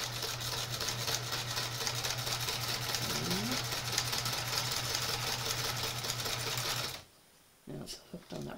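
Sewing machine stitching thread through a cosplay hood: a steady, close, continuous motor whir with a fast rhythmic needle chatter for about seven seconds, then it stops and a few faint handling sounds follow.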